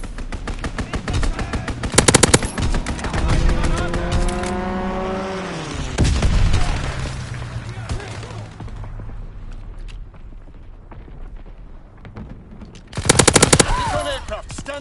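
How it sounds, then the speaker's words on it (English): A World War II video game plays loud bursts of machine-gun fire from a strafing run, with an aircraft engine roaring past and falling in pitch between the bursts, then another burst near the end. "Strafing run inbound!"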